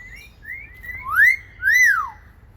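A bird whistles clearly in the open, giving two loud rising-and-falling whistled notes after softer chirpy calls, alone with no talk.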